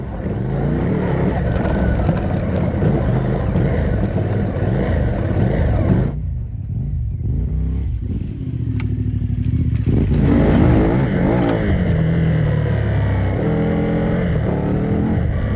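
A CFMOTO 450MT adventure motorcycle climbs over stacked logs in a Swedish pine forest, its engine loud and close with revving and throttle changes, a brief drop in drive midway, then clattering contact and renewed acceleration.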